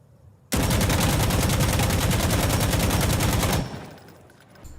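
An AKM rifle fires one sustained full-auto burst of about three seconds in Insurgency Sandstorm, loud and rapid, with a short tail of echo after it.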